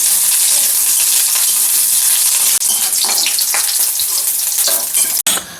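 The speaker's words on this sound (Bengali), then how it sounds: "চলো এখন হালকা করে ভেজে নিয়ে বেশি ভাজবো না" Something fries lightly in a pan, a loud, close, constant sizzle with scraping stirs throughout, cut by a couple of brief drops in the hiss near the end.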